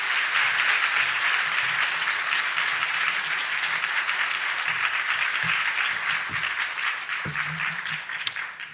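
A church congregation applauds together in steady, dense clapping that fills the room at an even level throughout, with a few faint low murmurs beneath it near the end.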